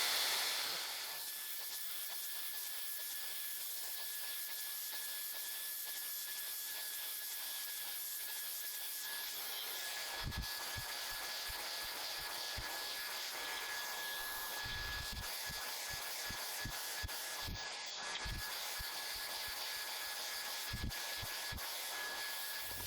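A hair dryer runs on its highest setting with a thin nozzle attached, giving a steady, loud airflow hiss and whine that fills the whole stretch, with faint knocks and handling thumps in the second half.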